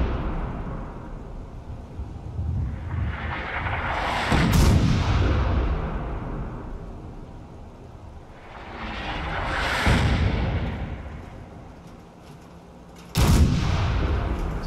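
Heavy artillery fire in Fallout 4 booms out in three big blasts spaced several seconds apart, each loud rumbling impact swelling and then fading into a low, continuous background roar.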